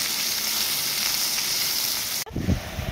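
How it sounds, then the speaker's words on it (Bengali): Taro stolons frying in oil in a wok, a loud steady sizzle that runs without a break and then changes to a lower, rougher crackle near the end as they are stirred or added. "এবার কচুর লতিগুলোকে আমরা ভেজে নিচ্ছি"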